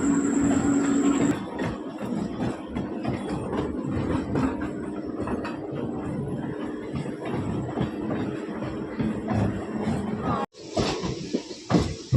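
Steady rumble of a passenger train standing at Panagarh station, with people talking over it throughout, ending in a brief drop and then a sharp burst of noise.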